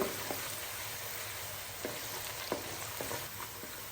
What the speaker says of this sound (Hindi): प्याज को हम लाइट ब्राउन होने तक फ्राई कर लेंगे।